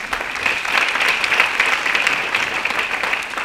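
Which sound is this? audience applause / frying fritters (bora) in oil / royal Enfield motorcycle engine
audience applause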